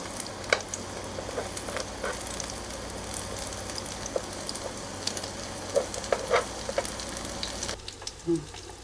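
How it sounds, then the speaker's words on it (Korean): Korean jeon pancakes with beef filling pan-fry in generous oil over low heat, giving a steady close sizzle with scattered small pops and crackles throughout. "너무 센 불로 하면은 타니까 좀 약한 불로 해서 이렇게 은은하게 구워주시면은"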